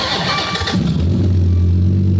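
A Lamborghini Aventador SVJ engine cranks and catches, then settles into a loud, deep rumble.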